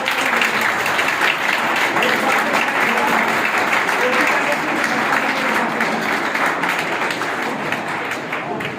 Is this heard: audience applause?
yes